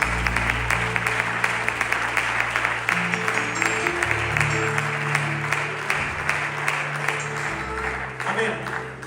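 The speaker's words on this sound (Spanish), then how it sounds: "Vamos a darle un aplauso para recibir la palabra." A church congregation applauds in a steady run of dense clapping that carries on for several seconds, with a low hum and some murmuring beneath it.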